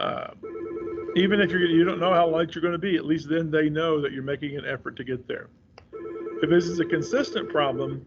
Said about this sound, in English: I apologize for that ringing phone.